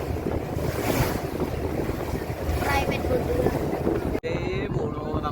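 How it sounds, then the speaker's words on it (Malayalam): A boat approaches across the sea, its engine rumble mixed with waves, surf and heavy wind buffeting the microphone, while people talk nearby throughout. "അവിടുന്ന് ഒരു ബോട്ട് വരുന്നുണ്ട്."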